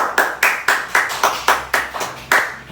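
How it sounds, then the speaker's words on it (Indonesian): Applause in an Indonesian-language classroom for a student who has just recited a poem: a steady run of about ten sharp, evenly spaced claps, close and fairly loud, with no talking over them. "berikan tepuk tangan kepada Dita Putrianti Wibowo"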